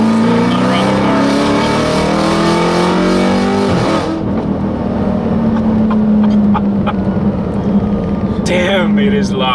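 A 1200 bhp Dodge Charger Hellcat SRT engine revving hard up close, a loud roaring pull that climbs in pitch, breaks off, then settles into a deep rumbling idle.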